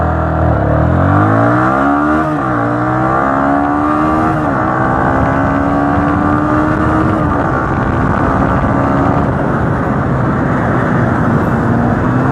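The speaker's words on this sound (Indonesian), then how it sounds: "Jadi pertama tadi RPM sekitar 2000, jangan lebih." A car engine revs steadily at around 2000 RPM for a drag-race start, loud and close, with the pitch rising, dipping briefly and then holding a sustained drone.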